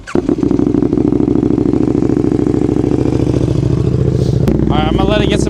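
A KTM 1290 Duke motorcycle engine with a new exhaust and tuning setup fires up from cold and settles into a loud, steady, lumpy idle, close by, with a brief shift in tone near the end.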